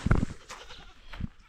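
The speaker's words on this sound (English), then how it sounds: "Guys, I want to show you goats." Goats at a rural homestead bleat in two short, close calls, one at the start and another about a second later, with light background noise between.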